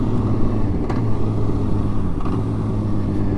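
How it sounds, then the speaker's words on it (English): Loud, steady engine rumble from a 2013 Honda CBR 600 sport motorcycle while riding, heard close up with constant droning intensity throughout. "I'm currently riding my boy's 2013 CBR 600, and he's riding my 2014 CBR 1000 behind me."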